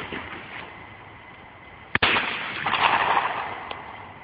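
A single sharp shotgun blast at a clay pigeon shoot, loud and outdoors, with a brief echoing tail and some wind noise before and after.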